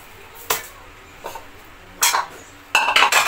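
Calamansi and lemongrass drop into a metal pressure cooker with several sharp clanks and clinks, four separate knocks spaced over a few seconds, close and clear over a quiet kitchen background.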